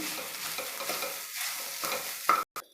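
A potato filling is stirred in a pan, giving a quiet, steady scraping and soft sizzle close by, with a sharp clack near the end before a brief cut.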